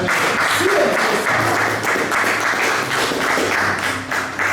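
A church congregation breaks into loud, dense applause, many hands clapping together in a sustained close wash of sound with a few voices faintly underneath.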